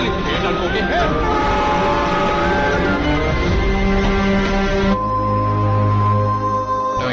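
A train pulls away slowly with a continuous rumbling drone and steady tonal hum, heard fairly loud against a dense layer of mixed background sound.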